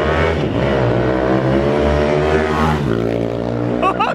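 A small 285cc Honda Pop motorcycle engine revs loudly and steadily close by on the street, its pitch climbing and falling, with a brief higher whine near the end.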